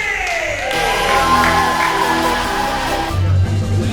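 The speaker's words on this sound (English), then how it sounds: "Put your hands together, a big round of applause. Make some noise for Captain Hook and Mr. Smith!" A lively crowd cheers and applauds steadily, with whoops and shouts rising over the noise and a brief low rumble near the end.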